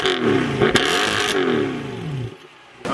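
A Mercedes C63 engine revs hard from behind the car in two loud blips, pitch swelling up and falling away, before the sound cuts to near quiet and a final burst returns at the end.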